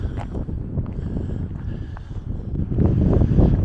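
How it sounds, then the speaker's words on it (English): Steady gusting wind on the coast at the bottom of Australia, a broad rumbling roar buffeting the microphone and swelling louder near the end, with no talk. "you feel the wind getting up"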